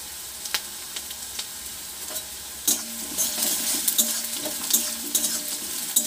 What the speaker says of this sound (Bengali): পেঁয়াজ কুচি দেওয়ার পর হালকা করে ভেজে নিচ্ছি। এরপর আমি এর মধ্যে দিয়ে দিচ্ছি 3টি শুকনো লঙ্কা।